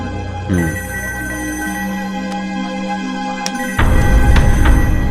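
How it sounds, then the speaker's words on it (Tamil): A telephone bell rings steadily at a police station, loud and near, its continuous trill followed by a louder rumbling noise toward the end. "இந்த நேரத்தில் போலீஸ் ஸ்டேஷனுக்கு ஃபோன் வருது?"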